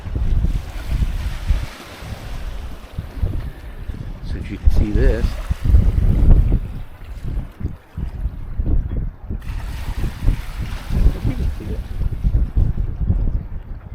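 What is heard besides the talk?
lake waves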